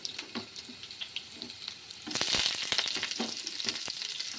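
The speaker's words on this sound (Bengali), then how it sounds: "পেঁয়াজ কুচিটা দিয়ে আমরা একটু পেঁয়াজটা যাতে হালকা লাল লাল হয় সেভাবে ভেজে নেবো।" Chopped onion added to potatoes frying in a pan: a quiet sizzle with light stirring scrapes that swells into a louder, brighter crackle about halfway through, close up, with no voices.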